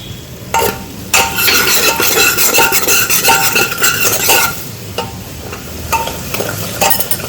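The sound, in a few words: cumin and pav bhaji masala roasting in hot oil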